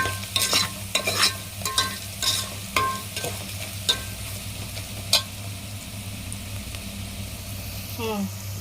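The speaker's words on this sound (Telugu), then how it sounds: "ఇప్పుడు మొత్తం మిక్స్ అయ్యేలాగా చక్కగా అంటూ తిప్పాలి" A spoon scrapes and clanks against a pan of prawn and gongura (sorrel leaf) curry in a series of uneven strokes over a steady low hum, with a brief sizzle near the end.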